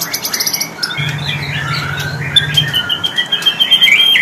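Birds in a bird shop chirping and squawking close by, a busy mix of sharp tweets and calls, with a low hum running beneath in the middle stretch.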